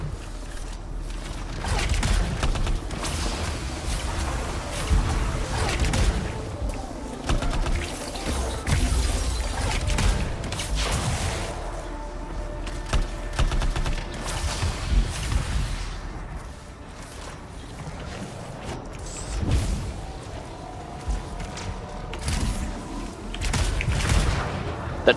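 An auto turret fires continuously during a stronghold mission in the video game Anthem, with rapid shots, booming impacts and explosions layered into a dense, unbroken din.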